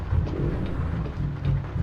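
Steady rain with low rumbling thunder surrounds a truck in the video game American Truck Simulator, a continuous wash of rainfall over a deep, rolling low-end rumble with no voices.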